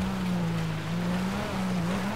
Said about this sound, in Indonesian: jadi kita bakalan pakai speedboat, guys.